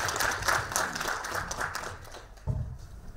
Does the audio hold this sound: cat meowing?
no